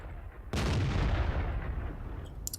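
A tank cannon fires in World of Tanks, one loud booming shot that cuts in sharply and rolls off in a long fading rumble, followed by faint clicks near the end.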